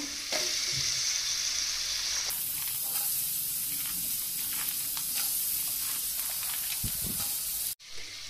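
Capsicum and green beans added to a hot pan for a vegetable pulao give a loud, steady sizzle with a bright hiss that carries throughout, ending in a brief clunk and a short dip near the end.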